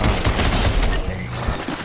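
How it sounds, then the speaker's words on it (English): A dense, continuous burst of gunfire and booms in Fortnite, loud and close, sustained over a couple of seconds with no talking. "who is the guy shooting behind me?"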